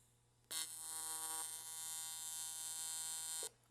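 An aluminum TIG weld with a Vulcan welder on high-frequency start: a steady, loud electric buzz with a sharp onset that holds for about three seconds before cutting off, with faint mains hum underneath.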